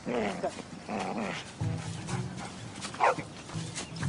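A dog gives several short barks and growly yips in a lively burst of canine noise, close by, with other faint sounds around it.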